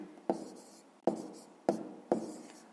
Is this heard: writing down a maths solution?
yes